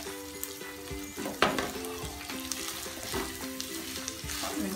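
Spices sizzle and fry in a pan for Kashmiri pulao, a steady crackling hiss with a few louder stirring scrapes, close and moderately quiet, with no talk.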